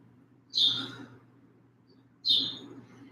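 Two clear bird chirps, about two seconds apart, sound against a quiet background with a low steady hum.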